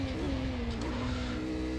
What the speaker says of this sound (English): just a little dab on the brakes there, bring the weight forward